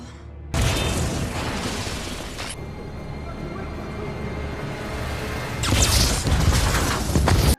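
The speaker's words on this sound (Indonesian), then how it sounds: "Dilanjut dengan ledakan bom lainnya yang juga menimpa banyak kepala negara." Loud bomb explosions: one heavy blast kicks off a long rumbling roar, and a second powerful burst swells near the end.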